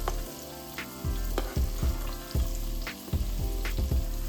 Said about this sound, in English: And I'm going to saute my vegetables.